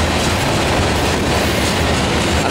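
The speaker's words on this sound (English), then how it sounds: "It's a pretty big train." Loud, close rumble of a big Norfolk Southern freight train passing at about 25 mph, with a GP38-2 in tow, dense clattering wheels on rails filling the whole moment without a break.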